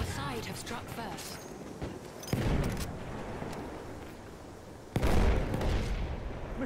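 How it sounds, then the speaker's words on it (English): Machine gun fire in the World War I shooter Battlefield 1, with sharp bursts around the two- and five-second marks standing out over a steady din of distant gunfire and battle noise, while a player talks throughout. "Machine gun, look, look."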